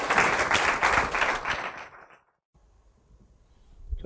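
A crowd applauds with dense clapping at a talk at IIT Mumbai, fading out after about two seconds, followed by near silence and a faint rise at the end.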